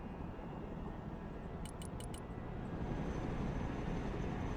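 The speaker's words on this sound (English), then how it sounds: "Helicopters are impressive machines. Boy, are they noisy." Low, continuous engine rumble of a helicopter in the video game Broken Arrow, a heavy droning roar that swells slightly toward the end, with a few brief high clicks.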